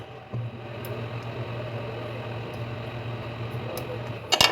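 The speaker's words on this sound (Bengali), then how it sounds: "তো আইসি ক্লিন করার জন্য হট এয়ার গানই ব্যবহার করবো আমি এখানে।" Steady airy whoosh with a low hum from a hot air gun blowing on an IC chip on a CPU board, continuous and fairly close, with a brief clatter at the end.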